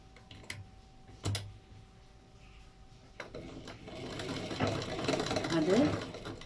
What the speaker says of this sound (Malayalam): ഇനി നിങ്ങൾ ഈ ബീഡ്സ് ഇട്ട പീസ് ഉണ്ടല്ലേ, ഇതിനെയും അതുപോലെ തന്നെ ഞങ്ങൾ സ്റ്റിച്ച് ചെയ്യണം.